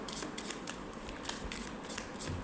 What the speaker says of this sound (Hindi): तो चलो यहाँ से हम कुछ कार्ड्स निकालेंगे।